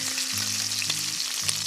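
Lamb chops sizzle in a hot pan with a loud, even crackle close by, over faint background music.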